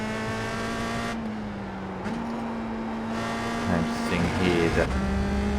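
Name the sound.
USF2000 race car engine hitting rev limiter, iRacing video game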